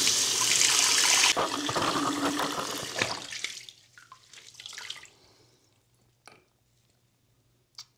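Water gushes loudly from a bathroom tap into a sink, then is turned off, leaving a few drips and trickles fading into near silence.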